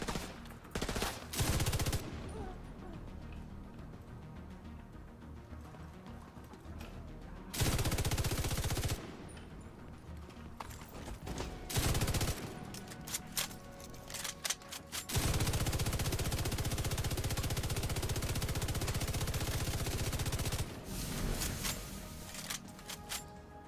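Sustained bursts of automatic gunfire in The Division 2 shooter game, several loud stretches of rapid shots broken by short pauses, with no talking.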